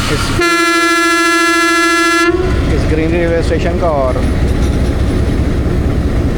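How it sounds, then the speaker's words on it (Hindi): Pakistan Railways locomotive 8045 hauling the 130 Down Thal Express past Taxila Cantt Junction, a long, loud, sustained horn blast followed by rumbling train noise close by, with someone talking over it. "8045 लीड करके लेके जा रहा है 130 डाउन थाल एक्सप्रेस को।"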